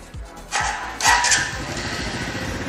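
A TVS Neo NX110 semi-automatic motorcycle engine runs close by, a rapid chugging idle with a couple of brief throttle blips that raise it to a louder, raspier rev before it settles back.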